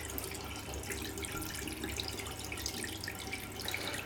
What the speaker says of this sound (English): once you've cleaned it, straight under the tap, rinse off absolutely